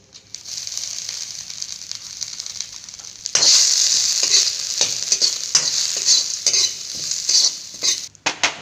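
Grated coconut stirred and fried in a hot pan, a loud bright sizzle that swells suddenly partway through, with repeated spatula scrapes and clinks against the pan.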